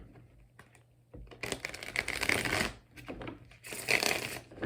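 A deck of tarot cards is shuffled by hand in a quiet room, with soft riffling bursts and brisk papery flutters coming in two main rounds between light taps and handling sounds.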